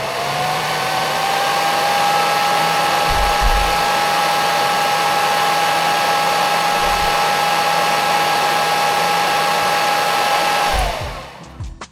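A 10,000 RPM soldering fume extractor fan runs loud and steady for about eleven seconds, a high constant whine over broadband rush, then spins down and cuts off near the end.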